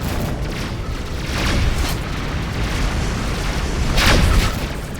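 Missile explosions in a space combat game rumble as deep, loud booms that swell and fade over a constant roar, with two heavier blasts standing out.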